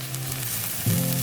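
Spam fried rice with oyster sauce and white pepper being stir-fried in a pan gives a loud, dense sizzle with a brief scrape near the end, all in under two seconds and without voices.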